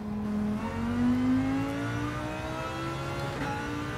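Race car engines in the Gran Turismo 7 video game, played in online multiplayer on PSVR2, rising in a steady whining acceleration with a continuous mid-pitched drone and no talking.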